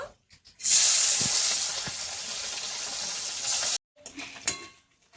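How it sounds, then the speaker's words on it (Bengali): Morla fish dropped into hot mustard oil burst into a loud, sharp hiss that holds for about three seconds and then cuts off, followed by quieter scattered crackles and handling sounds. "এবার আমি মাছগুলো ভেজে নেব"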